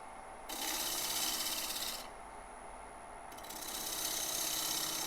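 A wood lathe spins a box elder burl at about 1,000 RPM while a sharp tool takes light hollowing passes, giving a close, steady hiss that swells into two bursts of scraping and rasping.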